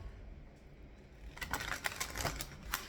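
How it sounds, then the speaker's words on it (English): A quick flurry of cards being shuffled, crisp flicking sounds starting partway through after a moment of quiet hiss. "Let's give them a nice little shuffle."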